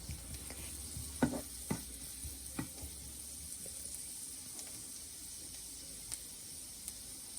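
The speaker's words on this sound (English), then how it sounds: "Wait until the garlic is bubbling." Minced garlic sizzles in a tablespoon of cooking oil in a pan, a quiet steady frying hiss punctuated by a few sharp clicks and taps of utensils, with no talking.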